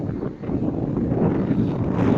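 Strong wind on a Black Sea beach at Vityazevo roars and buffets the microphone, a dense low rumbling rush that holds steady and loud throughout with no voices.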